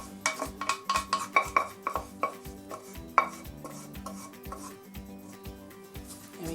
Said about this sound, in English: Make sure you scrape the sides.